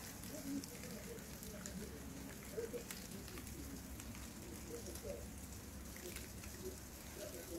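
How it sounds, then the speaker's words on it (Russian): Rain falls steadily on garden flowers under an overcast sky, a faint, even patter that holds without a break from start to finish. "Они хотели пить, и дождик их поливает."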